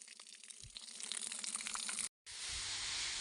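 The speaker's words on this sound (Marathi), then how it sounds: "विहिरीत आपण पाणी सोडलेलं आहे आणि ह्या पद्धतीनं पाणी चालतं" Water from a solar-powered farm pump pouring into a well: a steady, hissing rush of flowing water that fills the clip, broken by a brief dropout just past two seconds before resuming.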